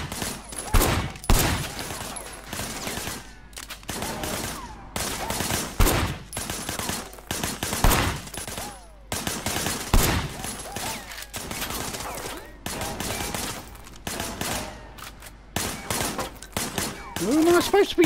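Gunfire while shooting from cover in the Sleeping Dogs video game: repeated bursts of sharp shots and rapid volleys come in waves throughout, with someone talking over the action.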